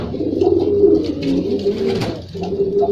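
A pigeon held in someone's hands coos steadily and close up, a low throaty rolling call repeated over a few seconds with a brief pause near the end.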